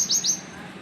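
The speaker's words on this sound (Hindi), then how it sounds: "देखो, मैं चिड़ियों की आवाज़ की वजह से ऊपर आती हूँ ज़्यादातर।" Two quick, bright bird chirps sound close by, one right after the other, then fade over a quiet background.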